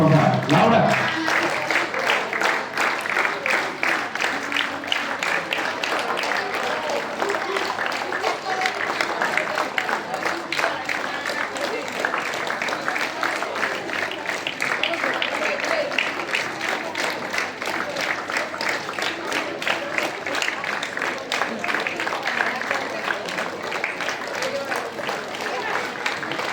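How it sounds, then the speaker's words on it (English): Students at a school assembly clap steadily in unison, a loud, even rhythmic beat that continues without a break for nearly half a minute, with crowd noise beneath. "Clap. 1, 2, 3, 4, 5."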